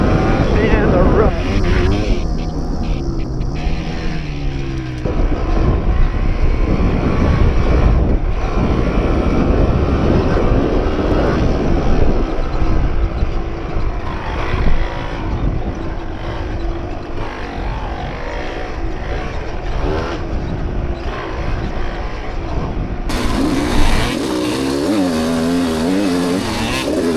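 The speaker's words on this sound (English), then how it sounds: "I'm stuck behind a massive line of V3 bikes with a V2 in front" Two-stroke vintage enduro dirt bikes race nose to tail through ruts, engines buzzing and snarling loudly nearby with shifting pitch throughout, while a rider talks over the din.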